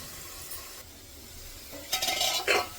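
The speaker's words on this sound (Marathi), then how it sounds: "मी मध्येच हालून दिलेली आहे भाजी मुळ्याची" Radish sabzi (मुळा भाजी) being stirred in a pan, a soft scraping and clinking of the spoon against the pan that grows louder near the end over a steady low background hiss.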